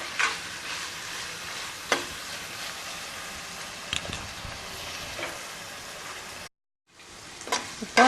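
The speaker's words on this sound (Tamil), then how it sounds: "ஒரு 5 நிமிஷம் அப்படியே சிம்மில் வெந்தால் உங்களுக்கு பன்னீரும் நல்லா குக் ஆகிடும்" Paneer simmering in a pan on low heat for a few minutes as paneer rice is made, a steady close sizzle with occasional stirring clicks, a brief gap of silence, then the sizzling resumes.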